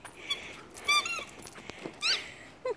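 A dog's new squeaky rubber ball toy squeaks in several sharp bursts spread across a few seconds, close and fairly loud against a quiet room background.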